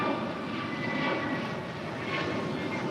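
A soon-to-be-retired Alaska Airlines Airbus A321neo jet produces a steady, broad engine roar at an airport, moderately distant and unbroken, with no voices.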